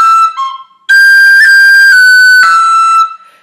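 A tin whistle plays a variation on a phrase of the Irish tune Kitty's Rambles, a few short notes and then longer sustained, slurred high notes, clear and close with no talking.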